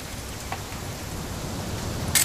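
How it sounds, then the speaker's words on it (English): Steady rain falls in the video game What Remains of Edith Finch, a dense even hiss throughout with a couple of brief louder spatters. "It's gonna rain the whole weekend, isn't it?"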